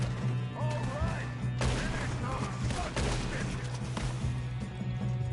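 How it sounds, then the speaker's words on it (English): A shootout in Red Dead Redemption 2, with dense, continuous bursts of gunfire and crashing impacts, loud and sustained, overlaid with shouting voices. "Good shooting, kid."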